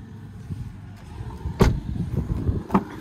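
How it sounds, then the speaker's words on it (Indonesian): Rear tailgate glass of a facelifted second-generation Honda CR-V (RD7) being opened: two sharp, close latch clicks about a second apart over a low, steady background rumble, with no talking. "Oh iya kalau mau buka kaca bagasi dari sini bisa ya."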